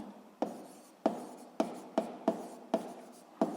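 Pen strokes scratch across paper in a steady series of about eight short rasps, close and dry, while a physics formula is written out by hand.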